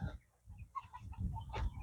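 Native chickens clucking and calling close by on a poultry farm in the desert, a few short bursts over low farmyard rumble.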